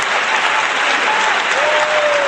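A stage audience at a Republic Day comedy show claps and cheers, a dense, loud applause that holds steady and unbroken from start to finish.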